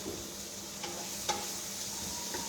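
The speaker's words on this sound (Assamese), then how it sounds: "এইখিনি মই ধুনীয়াকৈ ভাজি ল'লোঁ" Food frying in a pan on a gas stove during a live home cooking show, giving a steady, fairly soft sizzle with a few brief utensil clicks and taps.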